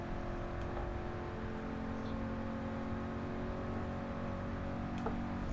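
Steady, droning engine of a Ford Mark IV race car at Le Mans in GT Sport, holding a constant high rev with a sustained tonal whine, moderately loud and unbroken, with no talk over it.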